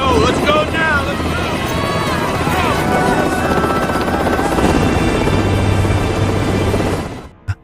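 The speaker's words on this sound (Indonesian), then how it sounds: "Ketika heli mengudara dan kembali melewati desa yang mereka tinggalkan sebelumnya" A helicopter lifts off with a loud, continuous rotor roar and whine that rolls on steadily and then cuts off abruptly near the end, with speech faintly mixed in.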